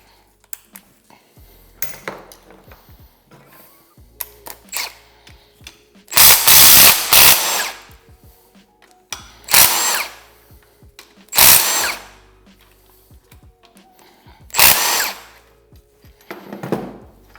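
A power tool zips out the four bolts holding a crankshaft bearing cap on a Honda CB350 engine during a bottom-end teardown. Four loud, whirring bursts stand out, with light metallic clinks and clatter of parts in between.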